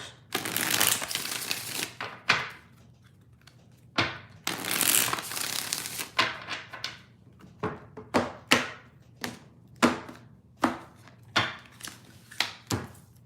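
A tarot deck gets riffled in two long bursts, then a run of sharp separate taps and flicks as cards are squared and laid down, close up and dry, with no voices.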